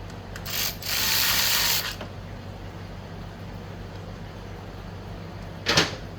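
A ratchet wrench loosening bolts on the starter clutch of a Yamaha Vino 125 scooter, with two short bursts of close clicking separated by a quiet pause and no one speaking.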